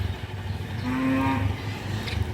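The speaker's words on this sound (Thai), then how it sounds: "คือต้องเอาควายออกวัวออกตอนเช้านะคะ" Cattle moo as they are led out in the morning on a farm, one long drawn-out low moo rising in the middle over steady outdoor background noise, fairly close and clear.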